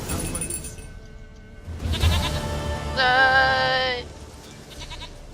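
A goat bleats in The Witcher 3 video game: a couple of short bleats early on, then a long, loud, wavering cry in the middle, set among game ambience with a brief voice.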